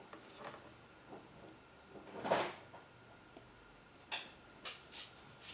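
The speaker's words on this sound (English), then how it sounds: "that noise would be the doggy door." A pet's doggy door flap swings indoors, giving a soft clack near the middle and another lighter knock later, amid faint household rustles.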